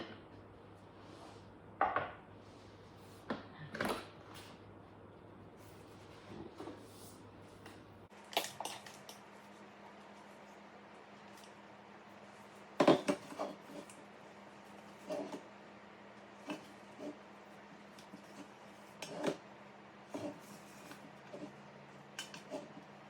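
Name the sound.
cookie mixture being scraped into a large bowl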